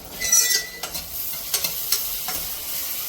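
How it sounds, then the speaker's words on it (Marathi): Spiced vegetable pulao being stirred with salt and turmeric in a hot pan, close and loud, with a steady sizzle and a series of rhythmic spoon scrapes. "थोडीशी हळद हे सगळं मिक्स करून घेऊयात"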